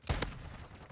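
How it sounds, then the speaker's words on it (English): A Basilisk revolver loaded with snakeshot fires in Modern Warfare II, two sharp, loud reports in quick succession, close up, over a low game background. "I missed my shots again."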